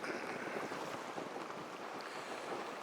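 Steady wind roars and buffets a microphone aboard a sailboat cruising Chesapeake Bay, a constant dense rush with no pauses and no voices.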